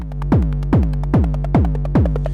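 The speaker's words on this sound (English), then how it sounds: "You can plug this into any analog oscillator and start sculpting kick drums with it" A deep synthesized kick drum from a Eurorack module driven by an analog oscillator thumps five times in a steady rhythm, each hit a punchy downward pitch sweep over a low hum.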